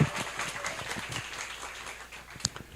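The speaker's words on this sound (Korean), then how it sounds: "큰 박수 부탁드리겠습니다." Applause from an audience at a youth committee launch and appointment ceremony in Korea, heard as a soft, steady wash of distant clapping with faint voices mixed in.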